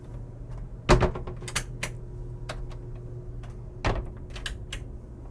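Wooden wardrobe doors and drawers aboard a Princess Y85 yacht open and close with a couple of sharp knocks and scattered clicks and rattles, quiet and close, no voices.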